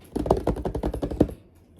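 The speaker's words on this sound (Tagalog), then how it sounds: "Aside sa keyboard na maririnig nyo at naririnig nyo ngayon." A computer keyboard clatters with a quick, steady run of close key presses that stops abruptly near the end.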